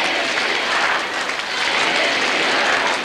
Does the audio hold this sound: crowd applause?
yes